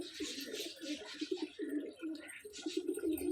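Several pigeons coo softly and repeatedly at close range in a home loft where a breeding pair has raised two young pigeons, the low throaty calls rising and falling in overlapping bursts over faint background hiss.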